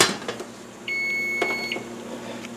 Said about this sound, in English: I will set the timer for 5 minutes.